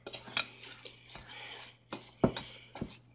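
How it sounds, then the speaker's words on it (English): Pineapple and raisins are mixed with sugar in a bowl, producing quiet, irregular scrapes and a few sharp clinks of a utensil against the dish at close range. "Give them a good mixing so you can't see any of the sugar"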